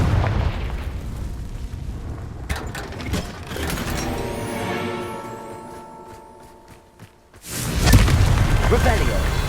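Magical fire spell blasts in a Hogwarts Legacy game, booming explosions with rumbling low-end bursts and mechanical clatter, loud and repeated across the clip with a spoken incantation mixed in.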